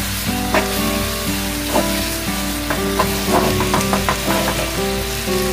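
Beef paprika with vegetables is stirred in a hot pan, giving scraping spoon strokes and a soft sizzle beneath steady background music, with brief clinks standing out now and then.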